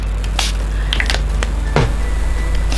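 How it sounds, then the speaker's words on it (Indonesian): A hand sanitizer spray bottle with a cinnamon scent gives several short, sharp spritzes at uneven intervals, close and crisp against a steady low background hiss. "semprotannya seperti semprotan hand sanitizer pada umumnya"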